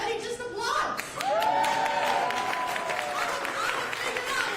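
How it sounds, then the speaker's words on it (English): Audience in Doral applauds at a political event with Venezuelan leaders, a brief, dense burst of clapping beneath someone talking. "you can say Marco Rubio down here and everybody just applauds"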